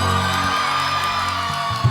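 An audience at a live stage event cheers and whoops together, a dense, continuous roar of crowd noise that stays loud throughout.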